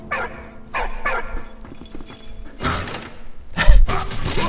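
A dog in the World War I video game Valiant Hearts gives several sharp barks and yips in separate bursts, close and loud, with occasional thuds between them.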